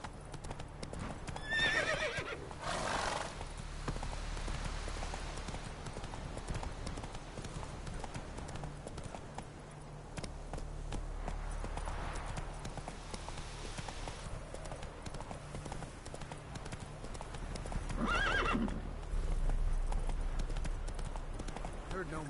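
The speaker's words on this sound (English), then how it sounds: "Run, Roach" In The Witcher 3, a horse gallops with a steady, rapid clip-clop of hooves and neighs loudly a couple of times. Wind and game ambience run underneath.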